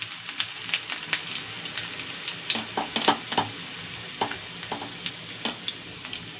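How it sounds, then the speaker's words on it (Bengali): Chopped garlic and ginger fry in hot oil in a wok for a homemade tarka, giving a steady sizzle broken by scattered crackles and the scrape of stirring, with no talk. "তেল আমার গরম হয়ে গেছে। তো এর মধ্যে এখন আমি দিয়ে দেবো রসুন কুচি, আদা কুচি।"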